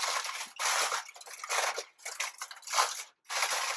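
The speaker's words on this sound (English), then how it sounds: "Now I'm going to get my aluminum foil." Aluminum foil crinkling and rustling as it is handled to cover a baking pan for homemade Spanish flan, close crisp crackling bursts in uneven waves separated by brief silences.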